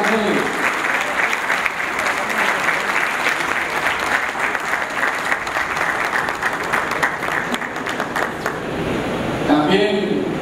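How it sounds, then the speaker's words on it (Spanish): An audience at a radio announcers' anniversary event in 2005 breaks into sustained, full applause that fills the room for about ten seconds, with a voice emerging near the end. "Un aplauso para Rogelio García Rangel"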